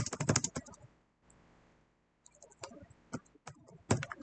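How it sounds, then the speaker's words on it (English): Rapid bursts of computer keyboard typing while saving a game in Quest for Glory 1, close and crisp clusters of keystrokes broken by a short pause, then resuming in uneven flurries. "I can type faster than this can actually register that I'm typing."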